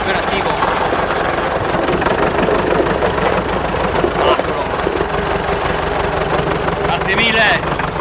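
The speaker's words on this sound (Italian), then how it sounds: "trattore da battaglia, ma che va" A 1985 Fendt tractor engine runs steadily throughout, chugging at idle, with people talking over it close by.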